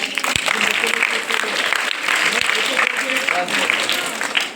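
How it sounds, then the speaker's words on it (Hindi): Clapping for children being awarded at a school prize distribution, a lively crowd applauding in a burst across a few seconds, with voices talking through the applause. "जोरदार तालियां इन बच्चों के लिए"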